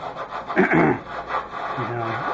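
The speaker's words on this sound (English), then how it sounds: "put the flange on here and work it around a few times to distribute it" A kart axle flange is worked around on a spherical bearing outer race with valve grinding compound, giving a short gritty rubbing and scraping that is close and moderately loud, with no talking.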